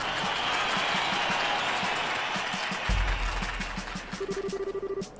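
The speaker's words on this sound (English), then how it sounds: "let's hear a big round of applause for the victors" Crowd applause in the video game Trails in the Sky roars as a dense, steady wash of clapping that fades off partway through, while a low rhythmic game music pulse and a brief tone continue underneath.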